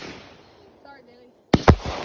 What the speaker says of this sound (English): The green tail to assorted color coconut tree. Fear No Evil by Firehawk Fireworks.